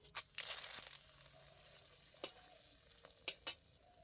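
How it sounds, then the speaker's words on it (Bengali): Four dried red chillies and three bay leaves dropped into well-heated mustard oil while making a jujube pickle, giving a soft, faint sizzle with scattered crackles and a few sharp pops. "তেল খুব ভালো করে গরম করে নিয়েছি, এবারে দিয়ে দিচ্ছি আমি 4টে শুকনো লঙ্কা"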